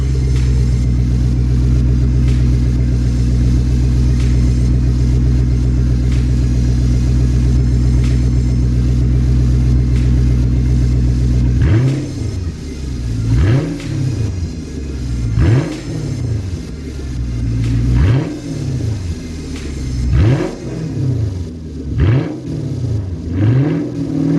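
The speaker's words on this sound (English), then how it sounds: "give it some little revs so you can hear the engine roar" A car engine idles with a steady low hum, then is revved repeatedly in quick bursts that rise and fall, loud and close.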